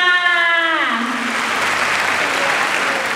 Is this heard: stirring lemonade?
no